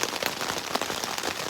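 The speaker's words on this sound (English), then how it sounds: "so far it's just been a lot of rain" Steady rain patters densely on surfaces during a solo canoe trip at Cliff Lake in Temagami, a close, even hiss of drops with no voices.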